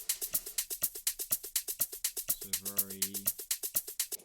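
A dry Afro house shaker with its lows cut and no reverb rattles in a steady, quick pattern of crisp hits, quiet and close, with a brief low synth chord sounding partway through.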